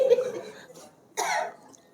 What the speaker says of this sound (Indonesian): Jangan batuk-batuk lagi.